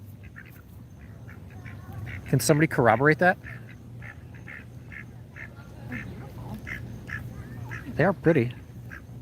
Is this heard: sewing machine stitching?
no